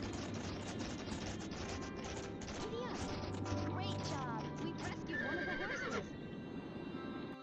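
Horse neighing and galloping hooves in the Barbie Horse Adventures: Wild Horse Rescue video game, with a whinny over a steady stream of game effects and voices.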